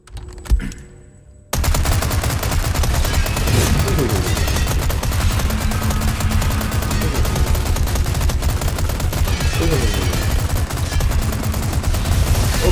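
Rapid automatic gunfire from Resident Evil 4 Remake rattles loud and continuous after a short quiet opening, a dense unbroken burst lasting many seconds.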